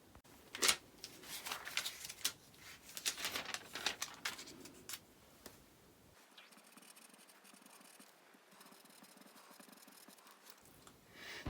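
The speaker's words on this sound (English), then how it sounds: "I'm now ready to cut out my pattern pieces." Scissors cutting out sewing pattern pieces on fabric, heard close up as a series of crisp snips and scraping slides that grow quieter and sparser toward the end, with no talking.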